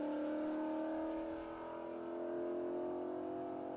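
A 2012 Ford Mustang Boss 302 race car drives at Watkins Glen in a vintage race, its engine droning steadily at high revs for a few seconds, close and loud, with no voices.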